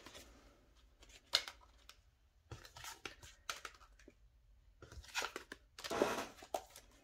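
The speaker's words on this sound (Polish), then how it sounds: "Słuchajcie, tasujemy karty" Tarot cards being shuffled by hand, quiet close riffling and rustling bursts in irregular clusters separated by brief pauses.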